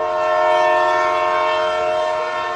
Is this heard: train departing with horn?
yes